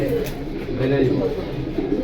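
Pigeons coo steadily at a market pigeon sale, their low throaty calls running continuously under nearby talk and haggling voices.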